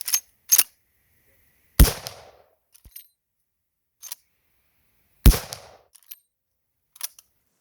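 Marlin 1895G Guide Gun lever-action rifle fired outdoors in a field, several sharp loud shots spaced a few seconds apart, each with a brief rumbling tail, plus faint clicks of the lever action between shots.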